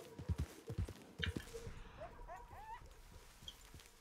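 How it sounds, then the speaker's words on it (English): Coyotes in the video game Red Dead Online, faint yips and whimpering calls with some low thumping steps, heard quietly beneath a person talking. "They're coyotes."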